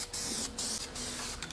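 Aerosol can of black flame-proof paint hissing in several short bursts onto a Cummins diesel engine, close and fairly loud with pauses between sprays.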